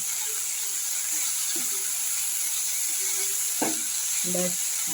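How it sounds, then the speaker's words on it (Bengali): Okra, potato and onion fry in a pan with a steady, bright sizzling hiss, joined by a few clinks of a utensil near the end. No voices are heard. "এই যে ভেন্ডি আলু পেঁয়াজ দিয়ে একটা ভাজা করছি"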